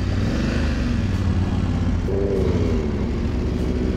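A BMW GS adventure motorcycle on a test ride, its engine droning steadily at close range with a rise in pitch partway through as the rider accelerates, with no talking.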